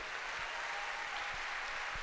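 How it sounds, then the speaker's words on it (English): Faint applause from a distant crowd at a school district opening-day event, a steady wash of clapping with a few soft thumps, heard for a couple of seconds. "And another round of applause"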